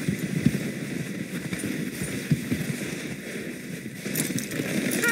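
A horse galloping in the Western video game Red Dead Redemption, with rapid hoofbeats clopping steadily over ambient outdoor game sound for several seconds, no voices.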